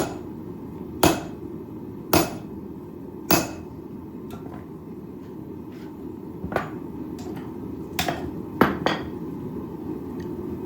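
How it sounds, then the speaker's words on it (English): Heavy six-pound hammer blows ring out while forging steel, three strong strikes early then lighter, irregular taps, over a steady background hum. "Using the 6-pound hammer, get a little more"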